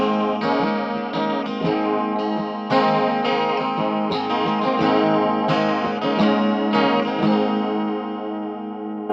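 Electric guitar run through a Walrus Audio Julia chorus pedal with the depth turned up, ringing chords and picked notes swimming in a lush, warbling chorus, played steadily and alone without any talking.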